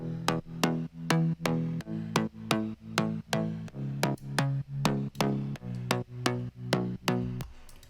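Slap house synth bass made in Serum plays alone, a steady run of short, punchy plucked notes, about two per second, each bright attack fading quickly into a thick, buzzy body, with no voices over it.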